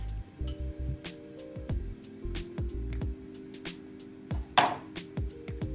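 A knife cuts a pie pastry sheet into squares for mini Japanese sweet potato pies. Repeated crisp taps on a cutting board come in uneven bursts, close and clear, over a soft tonal background.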